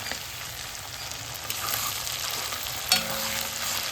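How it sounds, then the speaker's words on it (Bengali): Prawns fry in a hot pan with a steady close sizzle and crackle, occasional stirring scrapes and a brief clink near the end, no talking. "এখন চিংড়ি মাছটা ভাজছি"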